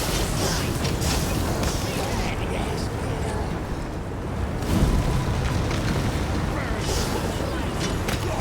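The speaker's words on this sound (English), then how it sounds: "Another fire swarm." A fire swarm spell roars in Pathfinder: Wrath of the Righteous, a steady crackling, rumbling burst of fiery noise that swells around the middle, loud and continuous throughout.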